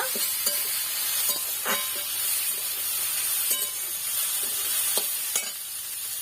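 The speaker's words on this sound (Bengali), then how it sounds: "ভালো করে নেড়ে নেব" Chow mein with chopped potato, egg and carrot stir-fried in a pan gives a loud, steady sizzle close by, with occasional spatula scrapes and knocks breaking through at intervals, no voices.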